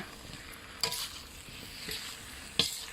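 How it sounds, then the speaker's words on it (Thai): Ivy gourd curry paste with fresh shrimp is stir-fried in a pan, with a quiet continuous sizzle broken by a few distinct utensil scrapes and knocks. "ผัดให้เข้ากัน"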